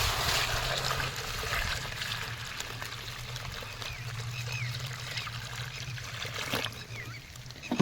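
Water poured into a bird water bowl outdoors in the rainy season, a steady, soft trickling pour with a low hum beneath, fairly quiet and without talk.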